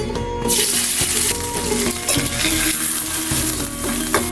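Curry paste stir-fries in vegetable oil in a pan, a loud, close sizzle with scraping stirring strokes and occasional clinks of utensil against metal.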